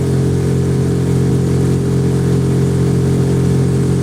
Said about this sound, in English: Got a boat coming up.